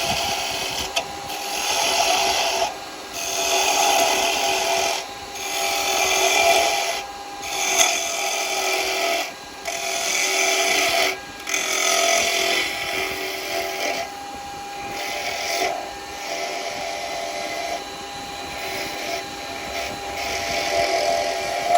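A woodturning gouge cutting into wood on a spinning lathe, repeated scraping and rasping passes of a few seconds each separated by brief pauses, close and alone without speech.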